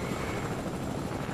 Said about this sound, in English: Where'd the helicopter go?